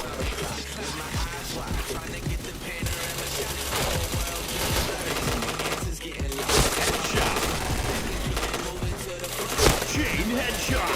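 Dense, rapid gunfire in the shooter game PointBlank: continuous automatic bursts and sharp cracks crowd together over busy game noise, loud and unbroken throughout.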